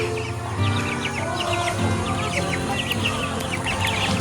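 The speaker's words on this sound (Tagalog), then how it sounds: "Ang daming mga manok." Many chickens, including broilers, cluck and chirp continuously nearby, a busy overlapping flock chatter over steady outdoor background noise.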